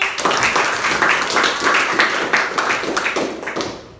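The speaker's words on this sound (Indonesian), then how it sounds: "Tepuk tangan dulu untuk Sari." A classroom of students claps together in a short burst of rhythmic, fairly close applause lasting a few seconds.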